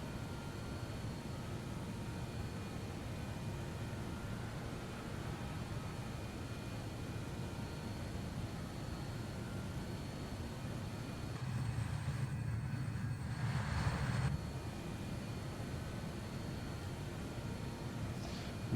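Ansett NZ cargo plane climbing out over a bay after takeoff from Tauranga, its engines giving a steady broadband drone that swells briefly louder partway through, with no talk.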